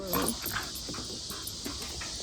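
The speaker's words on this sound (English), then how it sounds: "Stop your barking." A pet dog lets out a few faint, short barks early on, then goes quiet under a low, steady room hum, with no talking.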